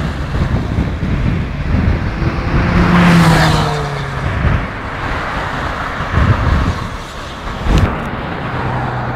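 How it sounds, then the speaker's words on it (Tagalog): Steady roar of road traffic with many vehicles passing beside a bus stop near a stadium at Villagio, Qatar, a few louder passes swelling out of continuous rumble, with wind buffeting the microphone. "Ang daming sasakyan dito, nag-aabang ako ng bus."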